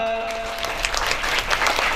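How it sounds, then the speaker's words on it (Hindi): Applause at a retirement function, a crowd clapping fairly loudly with quick, uneven claps building over a faint hum, heard close by. "शानदार स्वागत और जोरदार तालियों से, जोरदार तालियां होनी चाहिए।"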